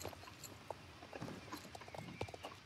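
Horse hooves clip-clop steadily in the Star Stable video game, a moderately loud run of irregular, hollow knocking steps over a busy background bed.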